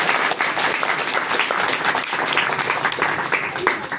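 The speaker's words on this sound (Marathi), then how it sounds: "सर्वजण टाळ्या वाजवूया" An audience at a Sanskrit conversation camp closing ceremony breaks into brisk, close applause, many hands clapping together in a dense burst for a few seconds.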